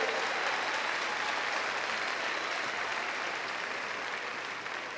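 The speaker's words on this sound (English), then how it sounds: "Please give this class a big round of applause." Sustained, full applause from a large crowd at a 2019 high school graduation ceremony honors the graduating class, a continuous even roar of clapping that stays strong for five seconds.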